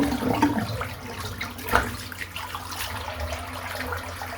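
Water running in a bathroom sink full of shaved hair while a razor is rinsed, a steady splashing wash with a brief louder splash partway through, close and alone.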